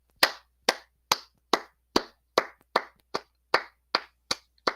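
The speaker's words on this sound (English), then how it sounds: "everybody started clapping" Steady, evenly spaced hand claps, about a dozen sharp slaps at a regular rhythm, fairly close, with no talking; the rest of the cafeteria crowd is not clearly audible.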